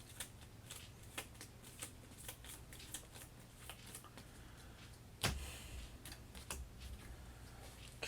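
A deck of board game cards being shuffled, heard as quiet, rapid riffles and soft ticks on a tabletop with one sharper snap midway, steady and close under a faint background hum.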